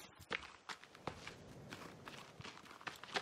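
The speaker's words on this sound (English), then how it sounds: "I hear three sets of footsteps." Footsteps in the video game The Forest, a faint uneven series of soft thuds and crunches, several sets overlapping at an irregular walking pace with no talk.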